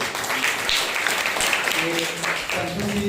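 Sustained applause from a church congregation at a Sunday morning service, dense and steady throughout, with some voices mixed in underneath.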